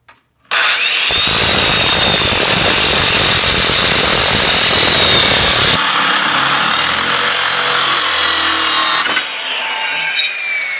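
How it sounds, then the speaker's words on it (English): A loud, harsh circular saw with a metal-cutting blade screams through thin sheet metal after a brief startup, the pitch dropping midway and easing off near the end. "you can have a metal cutting blade and a skill saw"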